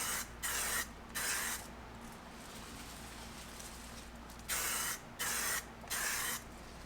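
Light tack coat of SUPERWRAP liquid wrap sprayed onto a 19-inch Audi A4 wheel: five short hissing bursts, two early and three later, over a quiet steady background hum, close and alone without talk.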